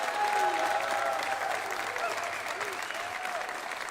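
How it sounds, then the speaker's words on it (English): A large crowd at a Maryland basketball press event applauds the men's and women's teams, producing a loud, steady roar of clapping with cheering and voices mixed in. "How about a round of applause for them?"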